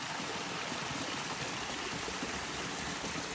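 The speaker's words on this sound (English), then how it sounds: "There's a lot of water flowing in the creek, and that's most likely snow melt" A mountain creek swollen with snowmelt, heard on a hike up Mt. Islip, rushes and splashes in a steady broadband wash that never lets up. It sounds close and fairly quiet, with no voices over it.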